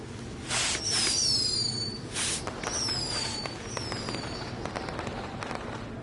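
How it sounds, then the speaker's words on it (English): Video game fireworks launching and bursting in WWE 2K20, with several whistling rising streaks and crackling pops in quick bursts, fairly loud and close. "we'll get to see some cool fireworks"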